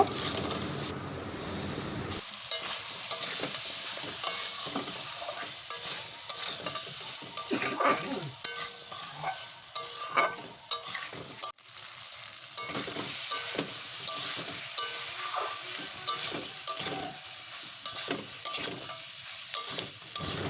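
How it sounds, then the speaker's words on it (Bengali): Cut potatoes and jackfruit seeds sauté in a hot pan, with a loud, continuous sizzle broken by repeated scraping stirs close by. "দিয়ে দেব কেটে রাখা আলু আলুটা দিয়ে বেশ কিছুক্ষণ কষে নেব"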